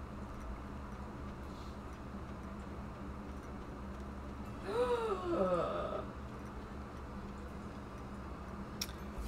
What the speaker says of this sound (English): What are you gasping at over there?